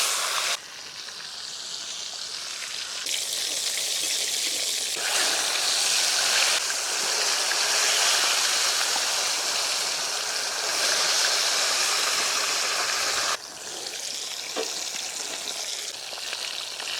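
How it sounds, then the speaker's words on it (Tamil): Fish frying in hot oil in a village kitchen, a loud continuous sizzle that shifts in intensity as pieces are stirred or added, with brief drops and surges in the crackle and no speech. "மீன் பொரிக்க எண்ணெய் சேர்த்துக்கலாங்க"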